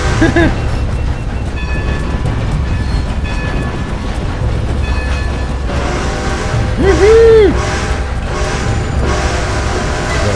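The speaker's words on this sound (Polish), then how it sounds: "Dzwonek." A steam train in Red Dead Redemption 2 rolls along with loud continuous rumble and clatter, and a brief ringing tone rises near the end over the constant rail noise.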